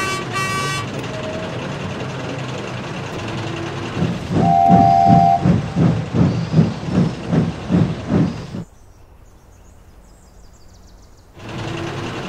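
A diesel railcar pulls away along a branch line with a rhythmic, pulsing rumble that swells loudly and carries a short horn-like tone, then cuts off to near quiet before a fainter background returns.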